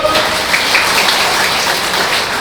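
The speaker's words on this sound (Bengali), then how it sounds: "জোরে একটা তালি দেন তো" An audience claps loudly and steadily for a couple of seconds at an event, a dense crowd applause heard up close.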